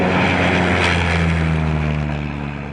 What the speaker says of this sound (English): And now he's pulling up on the nose,